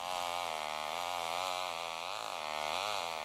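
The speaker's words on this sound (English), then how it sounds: "Chainsaws abuzz throughout the day around Lake Archer in Rentham." Chainsaws cutting through storm debris near Lake Archer in Rentham after 70-mile-an-hour winds, a loud continuous buzzing whine that rises and dips in pitch as the engine revs, heard up close.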